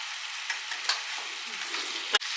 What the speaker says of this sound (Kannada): ಅದನ್ನು ಚೆನ್ನಾಗಿ ಫ್ರೈ ಮಾಡ್ಕೊಳ್ಳಿ